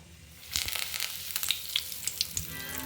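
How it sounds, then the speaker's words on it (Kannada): Curry leaves dropped into hot oil for a homemade mixture snack: a steady close sizzle with sharp crackles and pops scattered through it. "ಕರ್ಬೇವಿನ ಸೊಪ್ಪು ಎಣ್ಣೆಯಲ್ಲಿ ಸ್ವಲ್ಪ ಹಾಕ್ಕೊಂಡು"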